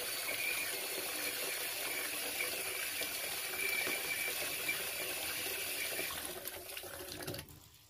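Hot water running from a tap into a bucket for washing greasy Suffolk fleece, a steady close gushing rush that stops near the end, with no talking.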